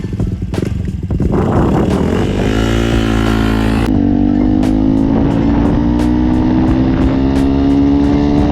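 Yamaha WR 125 X supermoto motorcycle being ridden, its engine loud and close with a steady drone that climbs in pitch, drops as a gear shifts, then rises again under acceleration.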